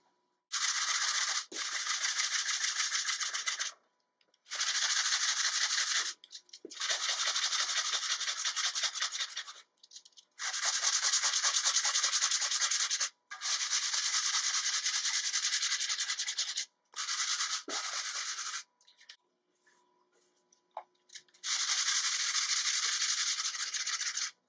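Hand sanding of wood with 180-grit sandpaper: loud, close scratchy rasping in long back-and-forth strokes, broken by short pauses between passes.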